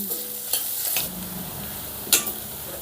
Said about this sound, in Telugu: ఈ ఉల్లిపాయ ముక్కల్ని కూడా బ్రౌన్ కలర్లోకి మారేంత వరకు ఫ్రై చేసుకుందాం